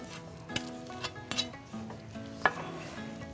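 Chopped chicken pieces frying in a pan, a soft steady sizzle with scattered clinks and scraping from stirring, close and moderately quiet.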